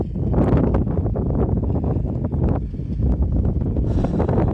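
Cold wind of roughly 7–8 metres per second gusts across an open field sown with alfalfa, buffeting the microphone in loud, uneven low rumbles and rushes with no talk over it.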